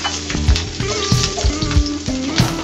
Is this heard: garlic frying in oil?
yes